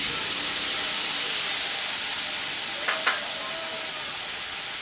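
Spice paste sizzles and fries steadily in hot oil with whole cumin for a Bengali rohu fish curry, a continuous loud hiss with a couple of brief stirring clinks.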